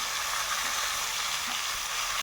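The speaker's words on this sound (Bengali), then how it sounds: "এখন হালকা নেড়ে চেড়ে দিব" Khichuri being lightly stirred in a pan, a steady broadband sizzling hiss running unbroken and fairly loud until it cuts off abruptly at the end.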